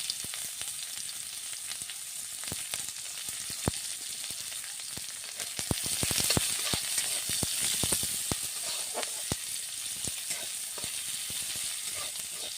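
Chopped onion fries in a little oil in a pan with a steady, close sizzle and crackle, broken by frequent scraping clicks of stirring that swell briefly midway.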